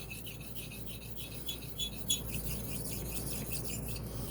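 A steel blade is worked over a Vermont green slate sharpening stone with a fresh slurry during coarse cutting, giving a close, steady series of gritty rasping strokes in an even back-and-forth rhythm, with no talking.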